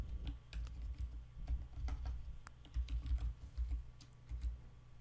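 Continuous typing on a computer keyboard, entering a Linux terminal command to install packages on Ubuntu 24.04, with irregular rapid key clicks and soft thumps spread over several seconds at moderate, close level with no voice.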